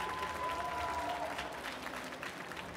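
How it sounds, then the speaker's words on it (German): Applause from an esports crowd at a Gamescom 2016 Smash Bros. tournament, honouring a tournament official; steady, moderately distant clapping with a faint tonal whine and crowd murmur through the clip. "großen Applaus bitte nochmal für unseren Offiziellen"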